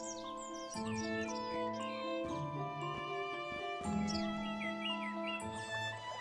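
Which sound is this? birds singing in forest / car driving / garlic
birds singing in forest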